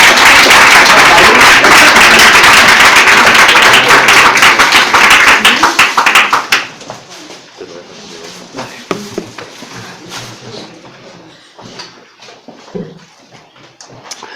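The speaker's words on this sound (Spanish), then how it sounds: "vamos a recibir a Antonio con un buen aplauso" Loud applause and clapping from an audience welcoming a guest speaker, dense and sustained for about six seconds, then thinning to scattered claps as the room quiets.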